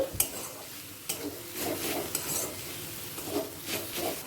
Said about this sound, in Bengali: আরও একবার মিশিয়ে নেব